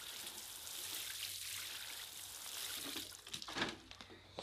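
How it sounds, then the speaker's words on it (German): Water pours from a can onto the soil of a freshly repotted coffee plant, a faint, steady splashing trickle close by with a few louder gurgles toward the end and no talk. "jetzt gießen wir die Kaffeepflanze an"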